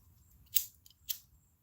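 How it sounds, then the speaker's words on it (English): Two quick riffling bursts of a deck of playing cards being shuffled, close and fairly quiet, separated by about half a second, with a faint low hum underneath and no talking. "I'm just gonna shuffle my cards while I wait."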